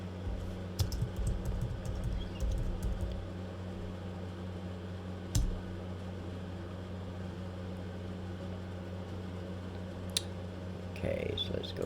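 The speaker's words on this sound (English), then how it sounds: "I'm sitting here typing and it's not doing nothing." Keys on a computer keyboard clatter in quick bursts of typing early on, then give way to sparse isolated clicks over a low steady hum of room noise.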